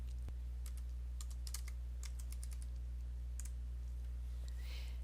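Keystrokes on a computer keyboard while entering a refund amount into an accounting form, a quick irregular run of clicks with short pauses, close and fairly quiet over a steady low hum, with no talking.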